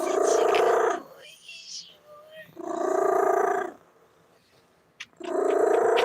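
A house cat growls in three long, loud, rumbling bursts close to the microphone, with quieter gaps and a brief click between them.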